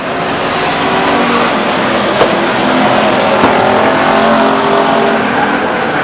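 Race cars circle a speedway oval at Stockton 99 Speedway in a 2000 evening race, engines roaring steadily and loudly throughout, with layered passing cars and no talking.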